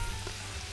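Onions and apples fry in butter over low heat, a close, continuous soft sizzle.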